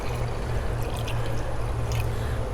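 Chicken stock and water pour steadily into a pot of black-eyed peas with ham, a continuous close splashing trickle running the whole time with no talk.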